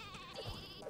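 A sustained, quavering sheep bleat from the Worms WMD video game fills the short moment, moderately loud against faint game background noise, no speech.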